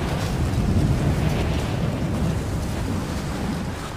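Strong, gusting wind roars steadily through the video game Shadow of the Tomb Raider, a dense low rumble with a hissing upper layer that stays loud and unbroken throughout, with no voices.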